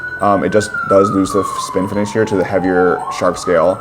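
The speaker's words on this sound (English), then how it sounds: "Sorry for the sirens in the back." A siren wails in the background, one long tone sliding slowly downward, under someone talking loudly and continuously over it.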